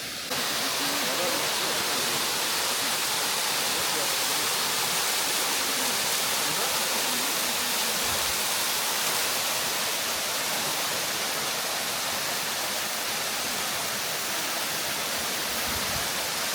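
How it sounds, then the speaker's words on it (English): Kegety Waterfall in Kegety Gorge, Kyrgyzstan, gives a loud, continuous roar of rushing water that stays unbroken and fills the whole stretch, with no voices heard. "that waterfall behind us is called Kegety Waterfall"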